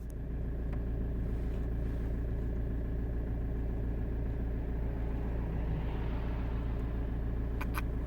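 A car's engine drones steadily nearby outside a huge abandoned abbey, a continuous low rumble that swells slightly as the vehicle passes without braking, with no voices.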